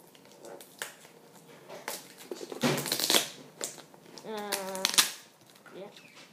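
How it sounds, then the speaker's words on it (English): A knife slicing through packing tape on an eBay parcel, with scratchy cutting strokes, rustling and tearing of the package near and fairly loud, mixed with handling noises and brief talk. "Now let me get a knife. Cut this open and see what's inside."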